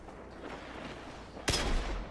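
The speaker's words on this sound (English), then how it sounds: "switch to my Lingering Song, which is a very slow firing hand cannon" A slow-firing Lingering Song hand cannon in a shooter game lets off a single sharp, loud shot near the end, a sudden close blast that rings out after a stretch of low background rumble.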